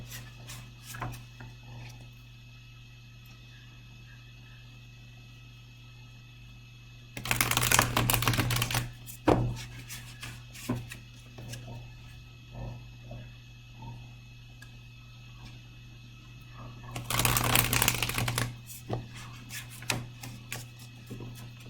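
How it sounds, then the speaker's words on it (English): Tarot cards being shuffled by hand, two bursts of rapid riffling flutter each lasting about a second and separated by quieter shifting and tapping of the deck in a calm indoor room. "I'm going to shuffle."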